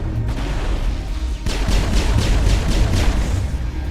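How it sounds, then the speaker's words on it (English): Loud rumbling blasts and crackling gunfire fill a Mass Effect firefight, a dense continuous roar broken by a sharp burst partway through and a run of repeated percussive booms. "Explosions."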